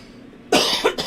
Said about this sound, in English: Been coughing a little extra today.